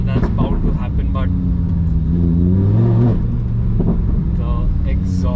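A Lamborghini Huracan supercar's exhaust rumbles loud and close, with engine revs rising and falling under someone talking throughout.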